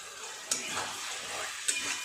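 Vegetables and spices sautéing together in a pan for a prawn curry, a steady broadband sizzle with a couple of sharp clicks from stirring, close and fairly quiet, no voices.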